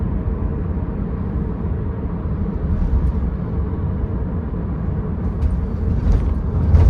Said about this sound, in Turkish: Bu arada rüzgar sesi alıyor araba.